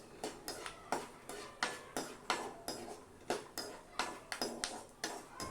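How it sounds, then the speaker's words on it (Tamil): Peanuts roast in oil in a pan while a spoon stirs them. Sharp metallic scrapes and clinks repeat in a quick, regular rhythm, close but fairly quiet, with no talking. "இந்த எண்ணெயில் ஒரு கைப்பிடி அளவு நிலக்கடலையை போட்டு அதை வறுத்துக்கலாம்."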